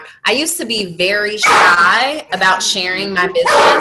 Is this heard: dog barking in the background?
yes